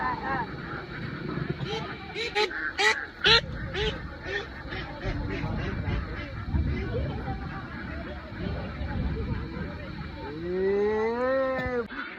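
Several ducks quack loudly and repeatedly near by, mixed with a hubbub of people talking and other farm noise in the background.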